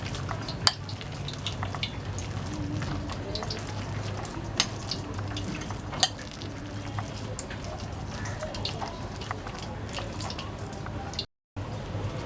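A spoon stirs oil into onion bhaji batter with soft, wet mixing sounds and scattered clicks over a steady hiss of heating oil, close and moderately quiet, while a voice talks at times.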